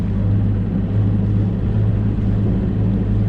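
Boat engine running at about 2000 RPM in reverse while setting a Rocna anchor, a loud, steady low drone with a constant hum and no break.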